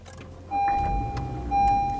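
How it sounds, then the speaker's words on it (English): A 2020 Honda Civic starts up inside the cabin, a short whir followed by the engine catching and settling into a steady low idle, with a thin electronic tone from the dashboard sounding twice. "All right, so we're going to start my car."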